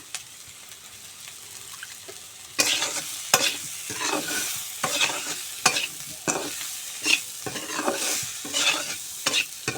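A spoon stirs small fish curry with turmeric and salt in a sizzling pan, repeated close scraping strokes over a soft, steady frying hiss.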